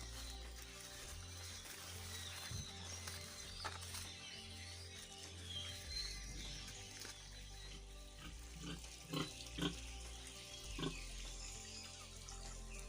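Pigs grunting and snorting at close range beside a river, over running water and an outdoor background, with a few louder squeals toward the end.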